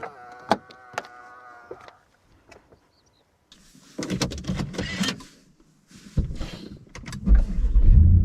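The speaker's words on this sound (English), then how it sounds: "we can use the button on the door handle to lock it" A Volvo S80 V8's door lock actuates via the door handle button with a short mechanical clunk and whir, then louder rustling and thumps of movement close by.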